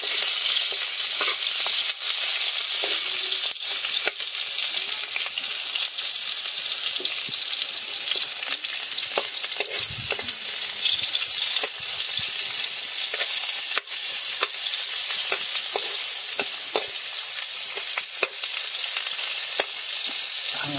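Food frying in hot cooking oil in a kawali wok while ginataang takway is prepared, a steady close sizzle with scattered pops and faint stirring clatter throughout, no talking.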